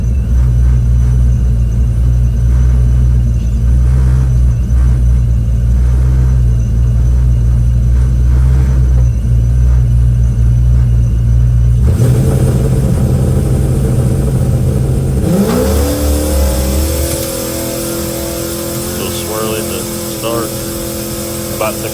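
A truck built for burnouts makes a drag racing pass, its engine roaring loudly and continuously. The deep rumble shifts abruptly as the pitch climbs and changes through the run.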